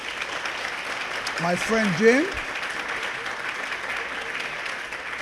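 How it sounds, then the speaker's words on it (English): Audience applause at a gala, a dense steady patter of clapping held throughout while someone speaks over it through a microphone. "So I want to ask for another big round of applause for President Meiskens,"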